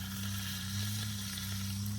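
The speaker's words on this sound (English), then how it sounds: "Listen to that sizzle." Wagyu NY strip steaks sizzle loudly and continuously in a pan on a Firebox camp stove outdoors, with a steady low hum from the stove beneath.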